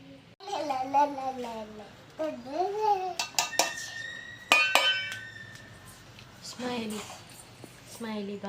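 Ingredients for tomato chutney are pounded by hand, giving a few sharp metallic knocks and clinks, mostly in two short bursts, with voices talking throughout.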